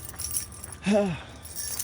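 A bunch of keys jingles briefly close by, a light metallic rattle. A short vocal sound sits in the middle and steady background noise runs underneath.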